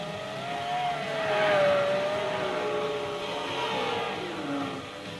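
Lister Storm V12 race car in Gran Turismo 4, a loud sustained engine drone that rises and holds high revs with gliding pitch changes, briefly dipping and climbing again, with no voices.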